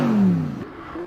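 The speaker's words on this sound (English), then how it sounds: "So we hear the massive revving on the stream." A Renault Sport R.S.01 race car revs hard in the GT Sport racing game, its engine note sliding downward before settling into a steady mechanical whir, loud and brief.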